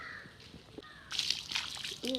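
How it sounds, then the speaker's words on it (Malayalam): Water splashes and sloshes in bursts while steps are washed at home, growing louder after the first second with short wet splatters, and a brief voiced sound near the end. "ഇങ്ങനെ വെള്ളത്തിൽ കളിക്കാൻ ഭയങ്കര രസമാണ്"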